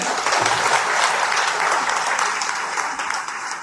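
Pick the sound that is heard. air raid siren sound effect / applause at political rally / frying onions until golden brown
applause at political rally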